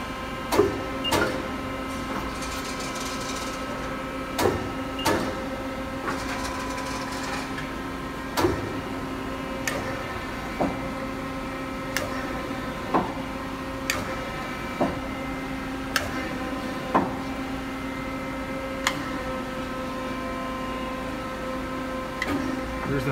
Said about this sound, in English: Gonna run the machine for you right now and see some of the machine in action.